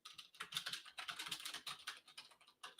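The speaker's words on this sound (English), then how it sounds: "Sorry for the loud typing." Rapid, irregular clicking of keys on a computer keyboard, close and continuous with no voices.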